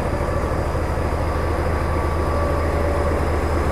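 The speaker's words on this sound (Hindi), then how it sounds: "ZDM-4A के लोकोमोटिव के साथ देखिए डिपार्ट लेती हुई हमारी, देखिए मेन लाइन पे आ गई अपनी टॉय ट्रेन" The Kangra Valley narrow-gauge toy train pulls out behind a ZDM-4A diesel locomotive, a steady, loud low rumble of engine and running gear that holds without a break throughout.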